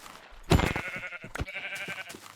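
Sheep bleating in a video game, a single wavering bleat that rises out of quiet, then a second softer bleat, close and clear with no talk over it.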